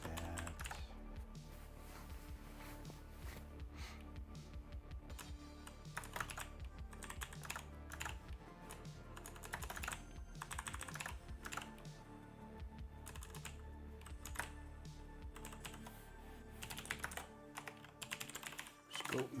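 Fingers type on a mechanical keyboard with green switches, producing a dense, continuous run of crisp clicky keystrokes with brief pauses, close and fairly loud, largely alone without talk.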